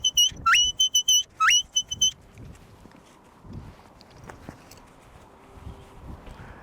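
A shepherd's whistle gives a Border Collie recall command, repeating rapid high trills and rising swoops in a loud burst for two seconds, followed by quieter footsteps and outdoor rustling on an Appalachian farm.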